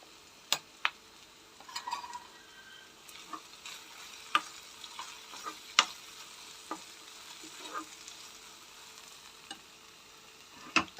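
A prawn curry with chili powder is stirred in a pan over a soft sizzle, with sharp scattered clicks and taps of the spoon against the pan at irregular intervals.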